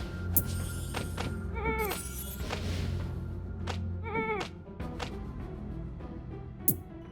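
Cartoonish sheep bleats from a sheep spell in the game Phobies, two wavering bleats a couple of seconds apart over a low steady game background, with a few thuds.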